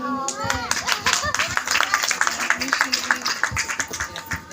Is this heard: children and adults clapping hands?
yes